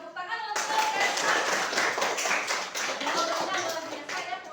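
A school classroom of students claps for a classmate, with brisk, dense clapping that starts suddenly and carries on for several seconds, with voices mixed in.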